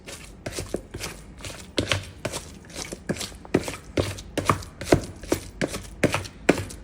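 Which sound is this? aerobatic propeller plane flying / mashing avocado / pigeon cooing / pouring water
mashing avocado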